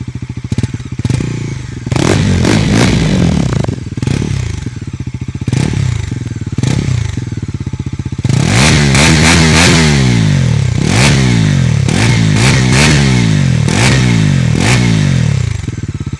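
A 2025 Bajaj Pulsar NS400Z motorcycle engine starts, idles, then revs in repeated rising and falling bursts. The sound is loud and close throughout, with no talking.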